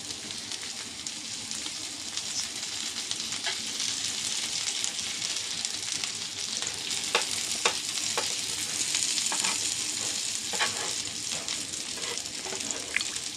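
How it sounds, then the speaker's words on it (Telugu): Masala bread frying in butter in a hot pan on low heat, a steady close sizzle and crackle with occasional sharper pops, continuous and without talk. "సిమ్లో పెట్టి మనం ఫ్రై చేసుకుంటున్నాం కదండి"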